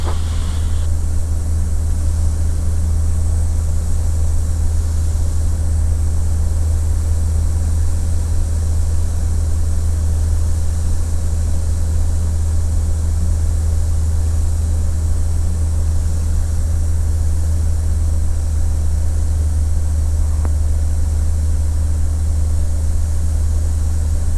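Steady low drone of a TB10 light aircraft engine in flight on short final approach, loud and constant throughout from inside the cabin, with no talk.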